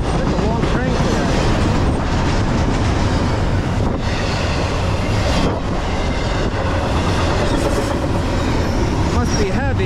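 A long, heavy freight train hauled by three locomotives rolls past close by, a loud continuous roar of wheels and rail clatter with occasional squeals and wind buffeting, lasting the whole stretch.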